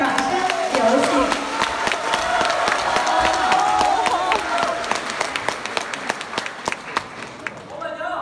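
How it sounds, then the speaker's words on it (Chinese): An audience claps and cheers to welcome performers Zhao Yunyi and Sun Jiuxiang onstage for the piece Yang Naiwu Writes a Complaint. The applause is dense and steady, with sharp claps running throughout, a murmur of voices beneath, and it thins out near the end. "杨乃武写状，表演者赵云一、孙九香，掌声有请"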